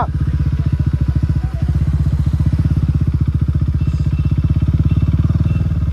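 A KTM Duke 390 motorcycle idles close by, its single-cylinder engine and exhaust thumping in a steady, rapid beat that stays loud and even throughout with no talk over it.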